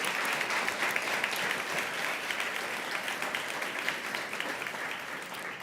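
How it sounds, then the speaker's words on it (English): A conference audience gives a steady, dense round of applause that carries at an even level throughout, with no voices over it. "Please give them a round of applause."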